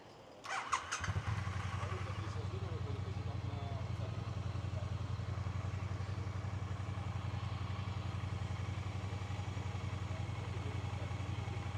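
A 2020 Triumph Bonneville T100 motorcycle started with the clutch pulled in: a brief clattering crank catches and settles into a steady, even idle that runs on for the rest of the clip.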